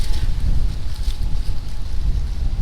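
Strong wind of about 20 mph buffets the microphone outdoors during autumn fishing, a steady, heavy low rumble with a faint rushing hiss throughout and no voices.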